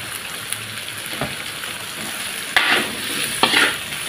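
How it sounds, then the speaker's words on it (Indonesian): Gluten mock meat stirred into fragrant spice paste for a vegetarian gulai, frying with a steady close sizzle and two sharper scraping stirs near the end. "lalu kita masukin daging glutennya"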